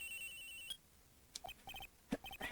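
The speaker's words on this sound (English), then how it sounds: "And now the cell phone is ringing." Cell phone ringing in the video game Phoenix Wright: Ace Attorney: a steady electronic ring tone plays first, then short repeated chirping beeps come in quick bursts, moderately loud and alone.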